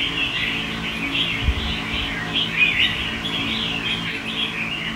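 A caged songbird gives quick, high chirps in short bursts, close and clear over a low steady background hum, with no voices.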